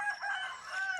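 A rooster crows once at a distance, a single drawn-out call that is fairly faint, outdoors in a rural planting area.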